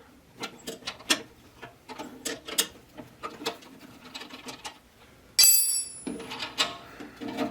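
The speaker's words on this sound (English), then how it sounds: "we're going to take our 1/2 inch wrenches, one on each side, which is that bottom one, and take this nut off of here" Two half-inch wrenches work a nut off a bolt on a DR Pro 400 chipper during blade replacement, giving a string of small metallic clicks and ratcheting taps, with one brief louder clank near the end and no talking.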